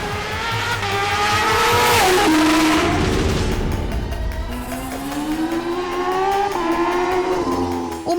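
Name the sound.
Kawasaki H2R supercharged superbike riding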